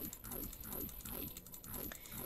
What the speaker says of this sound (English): You guys might be able to hear my mouse clicking in the background